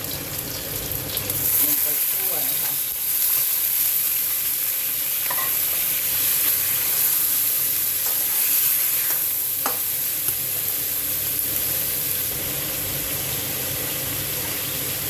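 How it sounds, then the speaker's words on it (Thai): Crispy pork belly ribs sizzle and fry in a pan with garlic, stirred steadily with occasional scraping clatter, a continuous close hiss under a running range hood. "เสร็จแล้วก็เอาซี่โครงหมูกรอบสามชั้นลงไปค่ะ"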